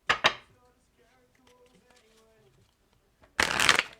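Tarot cards shuffled by hand: two quick riffle bursts at the start, then a quiet stretch with faint tones, and a louder, longer shuffle near the end.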